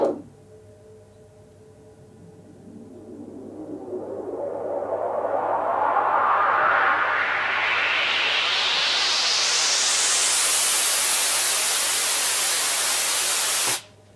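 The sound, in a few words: wide chorused white noise effect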